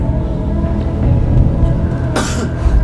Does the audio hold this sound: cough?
yes